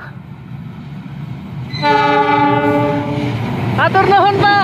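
A passing train sounds a loud, sustained multi-tone horn that begins partway through over steady rumbling rail noise, followed by a wavering horn or whistle near the end.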